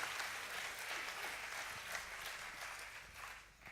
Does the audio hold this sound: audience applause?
yes